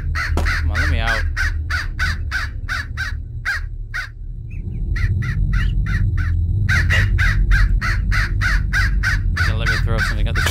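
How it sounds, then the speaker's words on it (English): Rapid, loud crow-like caws repeat in long rhythmic bursts outside the house in the Hello Neighbor video game, pausing briefly before resuming over a low droning game background. "I just want to get away from the noise of the bird."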